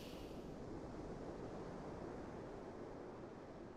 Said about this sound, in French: On entend à peine le clapotis des vagues contre la coque